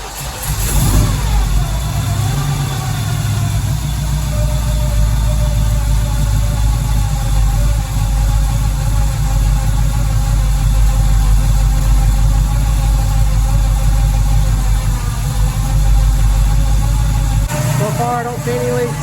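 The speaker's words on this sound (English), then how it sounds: "So we'll start it up and let it warm up a little bit and check for leaks." A 1968 Firebird engine running after startup and warming up, a loud, steady, deep rumble at a fast idle that holds nearly constant throughout, close by.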